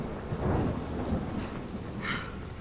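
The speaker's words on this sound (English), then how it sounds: "Why is it always raining in this game?" Steady rain hisses in the video game Dying Light while low thunder rumbles and rolls underneath, with a brighter crackle late on, a continuous dense wash of storm noise without talk.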